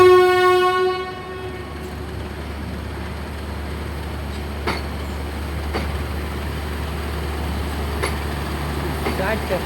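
Morning train pulling a long string of wagons along the rail line: a horn sounds at the start and fades, then a steady close rumble rolls on with occasional sharp clanks of the cars.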